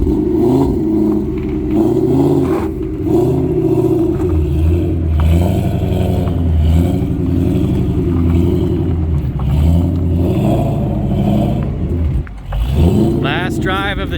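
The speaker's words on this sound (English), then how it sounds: "Last drive of the Shelby, guys." A 2013 Shelby GT500 drives off, its engine rumbling and revving steadily close by throughout, with people talking over the low growl.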